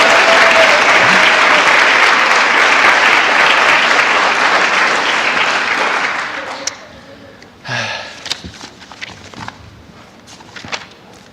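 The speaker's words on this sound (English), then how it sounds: "I think they also deserve a quick round of applause." Audience applause at a church children's holiday pageant, honoring the volunteer parents: full, sustained clapping for about six seconds that then tapers off into scattered claps, shuffling and low murmurs.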